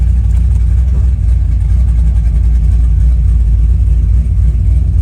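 A 1971 Chevelle with a modified TH400 transmission roars loud and close, a continuous heavy rumble that stays dense and steady throughout, with no voices over it.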